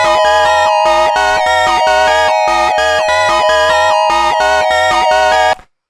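Synth lead from Meld with two oscillators, a bright, buzzy tone in fast choppy repeated stabs, loud and close, playing alone for about five and a half seconds before ending abruptly.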